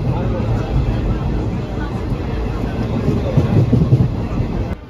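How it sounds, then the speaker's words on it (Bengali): A passenger train rolls into Bandel Junction, a steady low rumble of wheels and carriages that swells slightly near the end, with station crowd chatter mixed underneath. "তো ট্রেন প্রবেশ করছে ব্যান্ডেল জংশনে"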